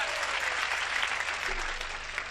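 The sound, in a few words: audience applause at a Hindi comedy poetry show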